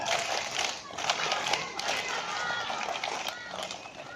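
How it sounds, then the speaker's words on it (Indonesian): Indonesian primary school scouts performing the rhythmic tepuk pramuka clap together, a fast patter of group hand claps with children's voices mixed in, fairly distant and moderately loud. "tepuk pramuka"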